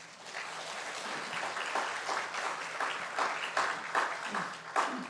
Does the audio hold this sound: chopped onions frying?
no